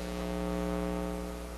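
A lamp's electromagnetic field picked up by a homemade EMF detector comes through as a steady, loud electrical hum with a buzzy, harmonic-rich tone that holds unchanged throughout.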